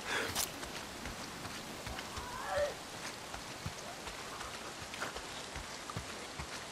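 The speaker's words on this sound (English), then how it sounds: "If it's not the freaks, it's the goddamn rain." Steady rain from the video game Days Gone falls as a constant hiss at moderate loudness across the whole stretch, with faint thuds and footsteps mixed in.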